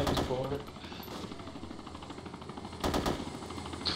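Gunfire in a video game set in Chernarus, rapid automatic bursts rattling at moderate distance, with a louder burst near the end and voices talking over it.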